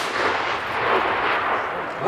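A rifle volley fired as an honour salute at an Independence Day ceremony in Piła, Poland, on 11 November 2008, heard as a loud, broad, ringing blast that fades over about two seconds.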